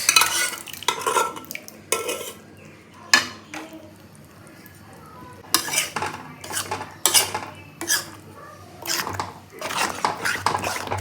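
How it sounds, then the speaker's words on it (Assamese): Boiled khichdi added to a pot with cooked peas and stirred with a utensil, giving a string of scraping, clanking metal strokes in irregular bursts between quieter gaps, close and fairly loud. "বইল খিচিৰিখিনি আমি এতিয়া দি দিম ইয়াত"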